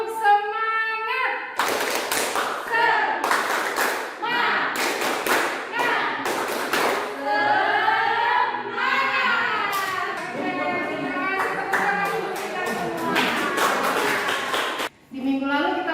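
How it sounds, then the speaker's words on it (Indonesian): A group in a high school classroom runs a rhythmic clapping routine, with steady hand claps and thumps under near-continuous chanting voices for most of the clip. "Ikuti gerakan kami dengan tepuk semangat."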